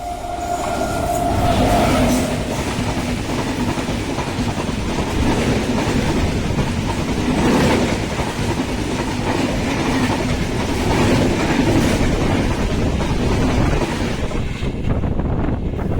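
The 16780 Tirupati express, travelling from Madurai to Tiruvannamalai, rolls along the rails with a continuous loud rumble and rhythmic clatter, heard from on board with wind buffeting and no voices.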